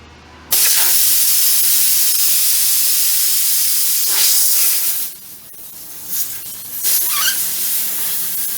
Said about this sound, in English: As soon as I pull this off, air is going to come out because I don't have the valve stem in.